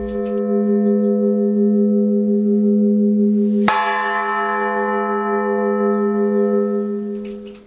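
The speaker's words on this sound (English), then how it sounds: "The sound of the bells ringing has already become a part of everyday life." Church bells ring steadily with a sustained, resonant hum, then a fresh loud strike midway adds bright overtones that slowly ring out.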